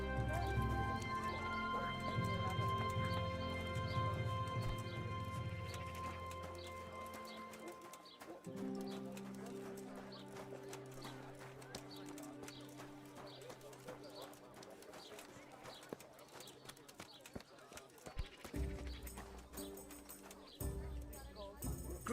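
Steady clip-clop of a horse's hooves on a road in a medieval video game, rhythmic and moderately close, with voices speaking over it.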